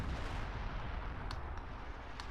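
Artillery barrage rumbling in a Company of Heroes match, a steady low roar with a few sharper distant bursts cutting through, continuous and moderately faint without voices.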